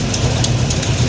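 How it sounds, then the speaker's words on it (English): A running engine in a Monte Carlo SS with a suspected exhaust header leak rumbles low and steady, with faint rhythmic ticking puffs pulsing over the idle throughout the short stretch. "I hear a header leak"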